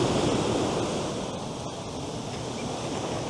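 Waves break on the shore in San Francisco, making a steady, close roar of surf mixed with wind noise. No speech is heard over it.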